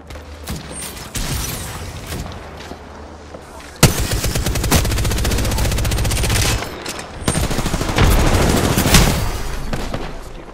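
Charge rifle fire and other weapons in the video game Apex Legends, heard as loud sustained bursts of rapid gunfire, with dense volleys near the start, in the middle and toward the end.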